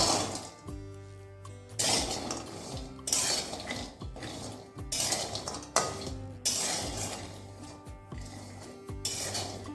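Walnuts and other nuts are stirred in a wok, making repeated scraping and rattling bursts of a spatula on metal with short pauses between strokes, with faint music behind.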